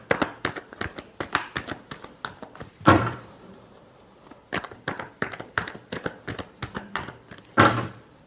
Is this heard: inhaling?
no